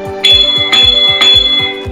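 A ship's sound-signal bell, at least 300 mm in diameter, for a vessel 20 metres or longer, struck in a quick regular series of loud metallic clangs whose ringing tones overlap and sustain between strikes.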